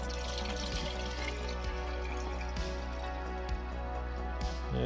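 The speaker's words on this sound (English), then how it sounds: "we're ready to put the fluid in" Blue antifreeze pours steadily into a 2nd-generation Citroën Berlingo 1.6 HDi, a soft continuous liquid trickle under a constant low hum, with faint drips and no voices.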